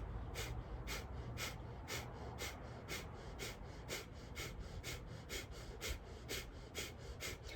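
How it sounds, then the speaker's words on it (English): Breath of fire breathing exercise: rapid, forceful, evenly spaced nasal breaths, about two per second, close to the listener and sustained in a steady rhythm. "The inhales and the exhales of breath and fire are actually equal."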